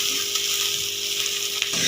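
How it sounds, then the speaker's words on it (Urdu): Half a kilo of eggplant frying in hot oil in a pan, a steady dense sizzle throughout, close and loud, with no voices. "اس کو ہم فرائی کریں گے"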